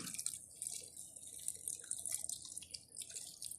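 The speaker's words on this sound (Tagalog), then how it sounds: "Dagdagan pa po natin ng tubig para at least talagang mabasa sa pinakailalim." Water trickles and drips onto soil while a plant is watered, a soft, close, irregular patter of droplets with no talking.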